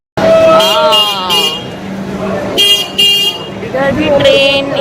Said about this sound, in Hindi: इधर भी ट्रेन और हमारी बैटरी वाली गाड़ी चली जा रही है।